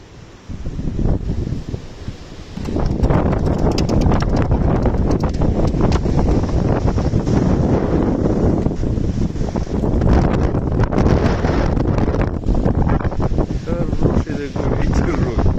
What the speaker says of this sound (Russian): Есть такой сильный ветер.